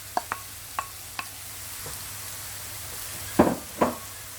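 Mushrooms brown in a pan for mushroom soup with a soft, steady sizzle, broken by a few sharp clicks from stirring and two louder scraping stirs near the end.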